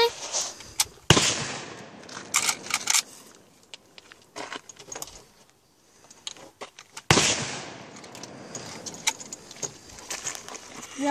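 Sharp gunshots from a handgun being fired outdoors, a few loud cracks spaced seconds apart with ringing decay, amid handling clicks and light background noise.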